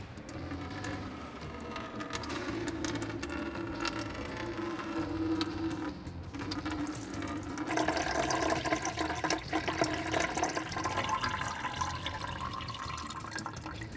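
Coolant draining from the radiator petcock of a Ford F-150, a steady liquid trickle and splash that runs on without a break and swells partway through, with no talk.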